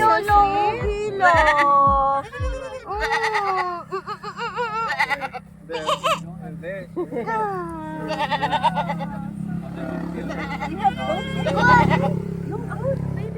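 Goats on a goat farm bleat in a string of wavering, quavering cries, some loud and close, overlapping with laughter and excited chatter from visitors.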